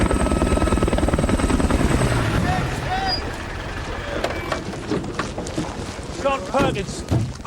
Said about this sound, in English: Chopper's here for him.